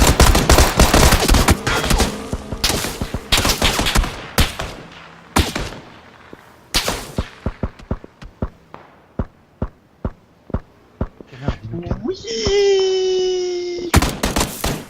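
Gunfire in PUBG (PlayerUnknown's Battlegrounds): loud, dense bursts of shots at first, then sparser single and clustered cracks of varying distance, with a sustained whine near the end.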